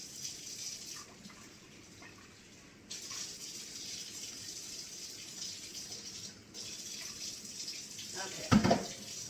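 Tap water runs steadily into a blender container, a continuous broadband rush that stops and restarts, ending in a brief clatter.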